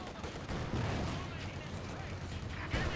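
A T-70 tank's 45mm gun fires in Company of Heroes 2 as muffled thuds and cracks sit low in a busy battlefield mix. A commentator talks over the fighting throughout.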